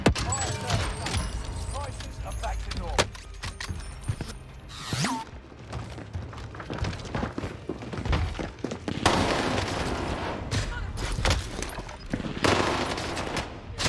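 Rapid bursts of gunfire from Call of Duty Warzone (Vanguard), dense and loud with thumps and clatter through much of the stretch, while a player talks intermittently.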